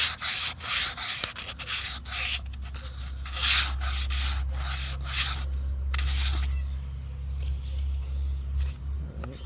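Sandpaper is rubbed by hand over the body of an Estes Hi-Flier XL model rocket in quick repeated scratchy strokes, close and fairly loud, with a low steady hum beneath them and a short pause partway through.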